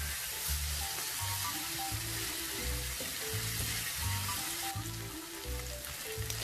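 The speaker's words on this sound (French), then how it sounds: "On mélange bien et on va laisser cuire 5 bonnes minutes." Sauce for pizza babouche simmers in a pan, a constant close sizzle and bubbling hiss, with a soft rhythmic low thumping running underneath throughout.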